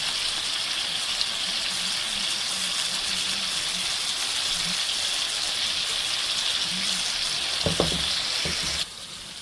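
Hilsa fish roe sizzles in hot oil in a pan, a dense, continuous frying hiss close to the microphone, with a few brief utensil clinks near the end before the sizzle drops lower.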